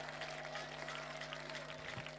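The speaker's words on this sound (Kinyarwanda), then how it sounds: "Kubw'iyo mpamvu tugukomeye mu mashyi tugushimira." Congregation applause at a gospel choir concert, a steady dense wash of clapping under sustained music tones throughout.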